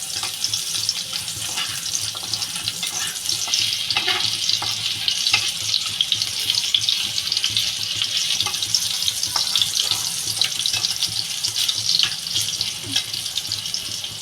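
Garlic fries in a pan until browned, a dense, steady hiss and crackle of hot oil close by with faint scattered pops, no voices.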